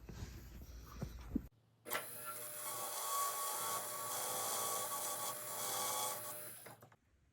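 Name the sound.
ball burr grinding out a ring setting for a marquise stone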